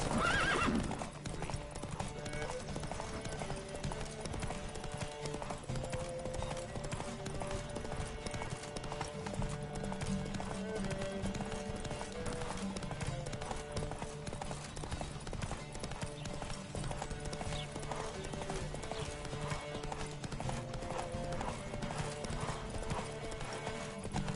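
Horse hooves clip-clop steadily throughout in The Witcher 3: Wild Hunt, a continuous galloping rhythm layered with occasional whinnies and a background music bed.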